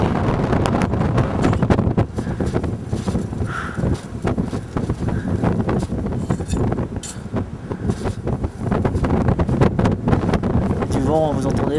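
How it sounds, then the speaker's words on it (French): Wind blasts buffet the microphone in rough, continuous gusts on a high Himalayan mountain ridge, loud and close throughout, with speech mixed in under the roar. "Du vent, vous entendez, je pense. C'est du vent qui fait."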